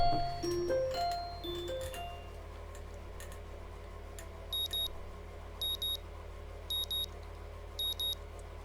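An alarm clock in the Katawa Shoujo visual novel rings as four evenly spaced pairs of short, high electronic beeps. They are faint over a low steady hum and come after a few soft tones at the start.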